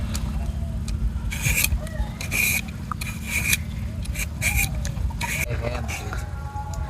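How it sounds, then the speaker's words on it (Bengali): Sweet potatoes being peeled give repeated short rasping scrapes in uneven strokes, close and fairly loud, over a low background hum. "তা প্রথমে আমরা আলুগুলোরে ভালোভাবে ছিলে নিব।"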